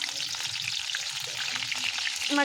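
Hot oil in a pan crackles and sizzles steadily just as green chillies go in, a dense, close frying hiss with a few brighter pops near the end and no talking.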